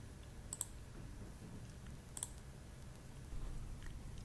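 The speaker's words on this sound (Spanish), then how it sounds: "Hacemos clic derecho nuevamente" A computer mouse gives two quick double-clicks, sharp and close, separated by a short pause, then a fainter click near the end over a quiet room hum.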